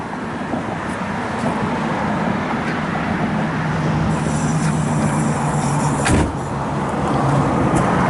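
A 1967 Chevrolet Chevelle SS with a mild built 396 V8 and a nice cam runs steadily nearby. Its constant loud rumble carries a low droning hum, with a brief knock near the end.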